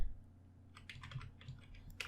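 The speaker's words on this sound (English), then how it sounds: "I will simply just type" A computer keyboard is typed on in a short burst of soft, close keystrokes. The clicks are quiet against a low hum.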